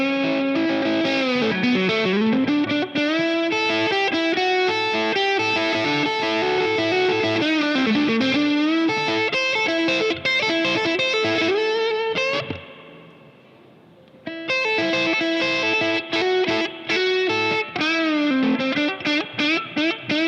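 An electric guitar runs through the valve side of an Origin Effects Revival Drive Hot Rod Edition pedal at low gain, giving lightly overdriven chords and riffs, loud and close, with a short near-silent pause midway.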